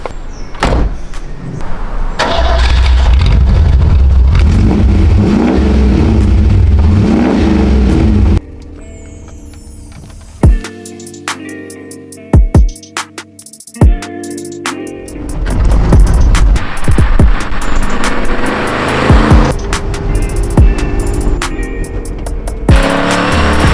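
Triumph TR8 with a loud engine running hard for the first several seconds, then quieter with door clunks and mechanical knocks, before the engine picks up again and pulls away through a village.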